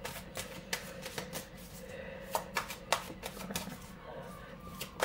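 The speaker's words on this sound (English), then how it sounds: "Just giving the cards a quick shuffle with some energy in them, the Emma's energy in them." A deck of cards is shuffled briskly by hand. Quick bursts of crisp riffling clicks and snaps sound close and clear, with no talking.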